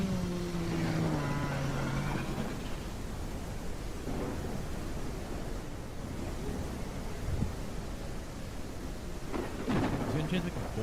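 A thunderstorm in the dragon game Day of Dragons: steady rain hiss with low rumbles of thunder, a brief engine-like whine near the start, and a voice talking faintly underneath.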